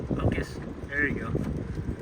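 Wind buffets a microphone while driving through poppy-covered hills during a California superbloom, a steady low rumble of gusts that swells and fades, with a voice talking over it.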